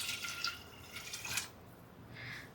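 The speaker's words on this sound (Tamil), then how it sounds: "1 லிட்டர் அப்படியே ஊற்றிடுறேன்." Faint splashing and trickling of one litre of water poured into a pot for chicken biryani in a couple of short streams, quiet and close, with no voices.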